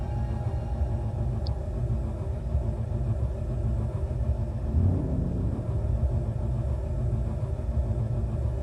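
A wheeled vehicle in Space Engineers grinds uphill with a steady low engine rumble that holds throughout, swelling briefly midway as its tyres snag the floor, with no voices.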